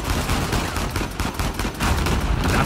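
Dense gunfire in the video game Uncharted 4 fills the clip, with rapid overlapping shots and bursts of loud, continuous automatic fire throughout.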